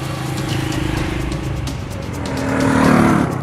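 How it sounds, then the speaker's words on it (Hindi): A Royal Enfield Meteor 350 motorcycle engine rumbles with a deep, pulsing exhaust beat, swelling louder near the end as the throttle opens. "इसके साउंड में, इसके एग्जॉस्ट नोट में फील कैसी है।"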